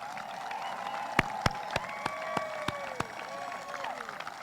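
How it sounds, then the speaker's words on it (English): Audience applause for the graduating class of 2020 at the Toms River High School North graduation, a steady moderate wash of clapping from the crowd, punctuated by several sharp, evenly spaced loud bangs, with faint voices underneath. "How about another round of applause for our graduates?"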